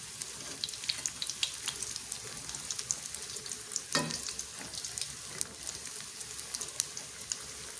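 Steady crackling sizzle of flour-battered tempeh frying in hot oil, dense and continuous, with a brief louder burst midway and occasional sharp pops.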